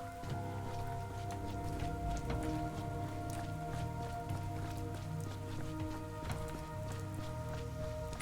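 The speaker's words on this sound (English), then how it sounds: "I mean, it is raining, Donko." Rain falls in the video game Pathologic 3, a soft, steady patter of drops on surfaces under a faint low ambient hum, with no talk.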